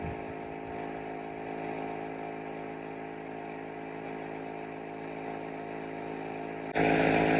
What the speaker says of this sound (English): When we get to 50 psi, we'll turn off the compressor.